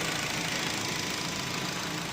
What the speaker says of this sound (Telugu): సైలెంట్గా ఉంది ఇంజను